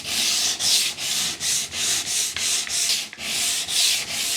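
Steady back-and-forth rasping of a sanding block rubbing a laminate worktop edge trim, about a dozen even strokes in a regular rhythm, close up with no talking.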